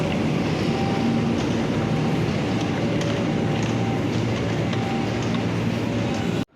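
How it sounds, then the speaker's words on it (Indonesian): A Sembrani passenger train pulls out of Bekasi station, filling the platform with a loud, continuous low rumble and rolling noise that holds steady and close throughout. "Sembrani sudah berangkat dari stasiun Bekasi"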